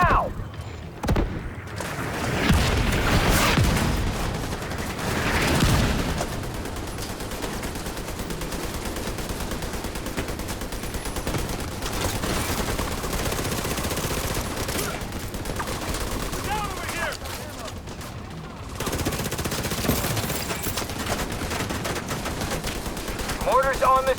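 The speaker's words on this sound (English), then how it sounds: "Mortars on this location." Mortar strikes and bursts of automatic gunfire in the Tom Clancy's The Division 2 video game, with sharp blasts and rattling volleys repeating throughout, several heavy impacts standing out, and talk mixed in.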